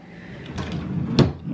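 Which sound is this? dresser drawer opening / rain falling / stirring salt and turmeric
dresser drawer opening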